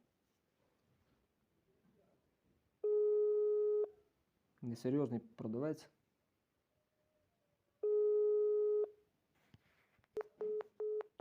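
A telephone busy signal sounds in steady tone bursts, one long stretch near the start and another later, with a quicker run of beeps at the end, while someone speaks briefly in between.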